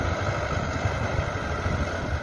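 Backhoe loader tractor engine running steadily while clearing a motor track in stormy weather, a continuous close mid-pitched rumble heard alone.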